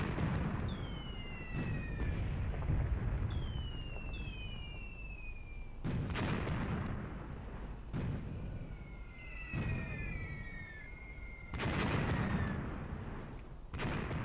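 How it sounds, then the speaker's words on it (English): Mortars firing in the war game Graviteam Tactics, a series of heavy booms spaced a few seconds apart, with whistling shells streaking overhead in between. "And my mortars are shooting. I mean my on-map mortars, obviously the off-map pre-planned ones are already firing."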